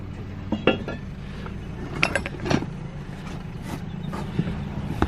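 A cast aluminum mini bundt or muffin pan being handled outdoors, with scattered light metallic clanks and clinks over steady low background noise.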